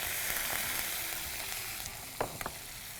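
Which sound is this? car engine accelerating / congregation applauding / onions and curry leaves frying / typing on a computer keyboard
onions and curry leaves frying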